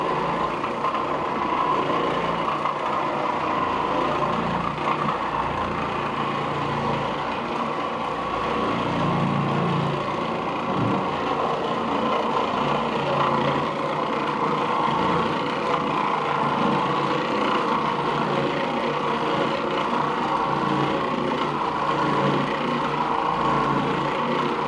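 An Oreck Orbiter floor machine works over filthy, dirty carpet with a steady, continuous motor drone and broadband scrubbing noise that holds at an even level throughout, with no speech.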